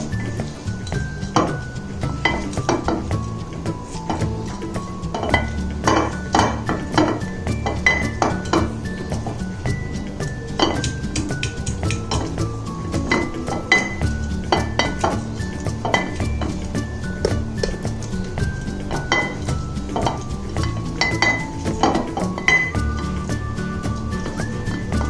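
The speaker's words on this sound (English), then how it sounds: "Muddle the mixture with a muddler to give it that minty flavor." Muddler tapping and clinking against a glass while pressing mint leaves with lemon juice, a steady run of small knocks and chinks up close, no talk.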